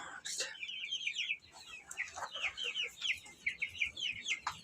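A brood of Brahma chicks peeps continuously in shrill, rapid chirps close up, with a few sharp clicks and soft background rustling.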